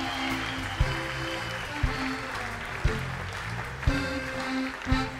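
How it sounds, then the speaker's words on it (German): An audience at a 25th-anniversary show applauds the helpers in a steady wash of clapping, with music and a regular thumping beat running underneath. "Diese Damen und Helfer der Tierflieger, dicken Applaus!"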